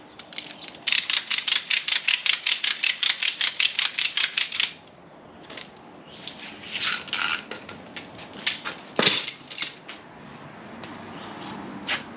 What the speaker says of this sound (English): use a ratchet strap as a tow strap